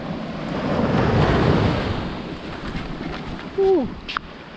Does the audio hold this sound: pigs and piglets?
no